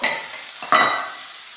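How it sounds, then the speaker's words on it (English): Rice browning in a pan for Mexican rice, a close sizzle with two quick scraping stirs of a utensil across the pan, no voices. "Now we've been browning this rice for about 5 minutes."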